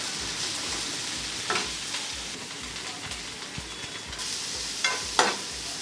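Onions frying in a pan with chicken, a continuous crackling sizzle broken by a few sharp spatula scrapes and stirs.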